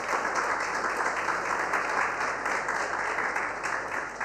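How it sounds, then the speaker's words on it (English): A conference audience applauds steadily in welcome of India's Union Education Minister at an education conclave, a dense, even wash of clapping sustained throughout with no clear break. "Pradhan a very warm round of applause"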